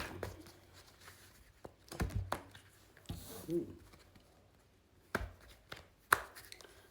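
Tarot cards are handled and shuffled, producing sparse, quiet taps and soft slaps in short bursts separated by near silence.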